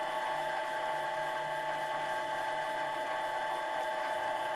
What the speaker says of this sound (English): I'm going to drill it in and out until I get all the way through to the other side